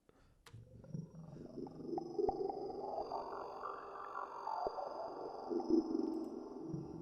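A dark, murmuring synthesized drone made in the Serum synth, with a high sustained whine above, rising and swelling in texture with sporadic clicks, eerie and otherworldly.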